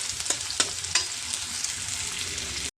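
Spiced masala for a spicy chicken bhuna sizzles loudly in a pan, with a dense, even frying hiss and a few sharp stirring scrapes near the start.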